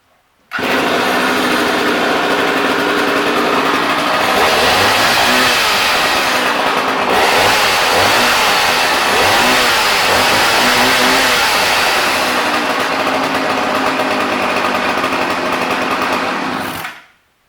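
A Homelite 360 chainsaw's two-stroke engine runs loud and close, idling briefly then revving up and down in buzzing surges before cutting off abruptly.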